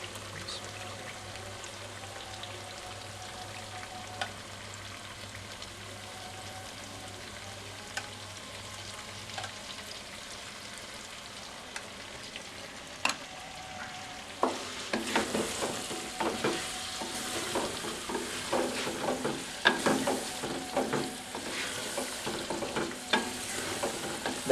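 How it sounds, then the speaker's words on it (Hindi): Chicken karahi with yogurt frying in a pan and stirred with a utensil: quiet simmering at first, then louder sizzling with a steady run of scraping, clattering stirs. "दही डालने के बाद इसको अच्छी तरह भून लेना है।"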